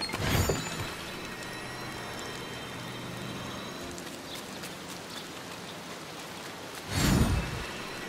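Rain patters steadily in the video game Disney Dreamlight Valley, a soft continuous shower with two brief louder whooshing bursts at the start and near the end.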